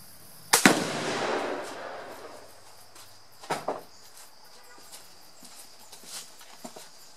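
One sharp shot from a Crosman Fury II air rifle at a shooting club, a loud crack with a rushing tail, followed by a few fainter clicks and knocks as the gun is handled.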